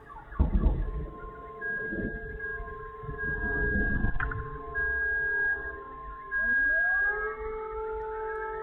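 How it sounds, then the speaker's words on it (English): Car alarms sound across a city area after a bombing explosion, several overlapping electronic tones and warbling wails holding steady and rising in pitch, with a deep rumbling boom at the start. "We hear the first explosion, with car alarms going off throughout the entire area."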